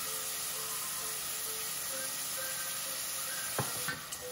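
Onions frying in hot oil with salt and green chilli added, a steady close sizzle with faint stirring, plus a couple of sharper utensil knocks near the end.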